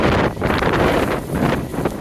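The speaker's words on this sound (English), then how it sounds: "we got a windy Thursday" Loud wind buffets the microphone on a farm during wheat drilling, in heavy, gusting rumbles that surge and fade over a couple of seconds.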